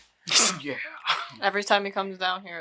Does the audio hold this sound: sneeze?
yes